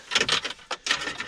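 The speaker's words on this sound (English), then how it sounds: "I'm just going to unplug the hazards" Plastic hazard light switch connector unplugged from the dash of a Ford Fiesta ST150, a few close scraping and clicking rubs in quick succession, fairly quiet.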